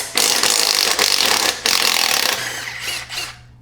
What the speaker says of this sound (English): I can actually unbolt the kickstand.